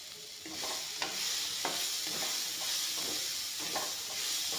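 Peas fry with salt in a pan, a soft steady sizzle under a regular rhythm of spatula scrapes roughly every half second, close and fairly quiet, no voices.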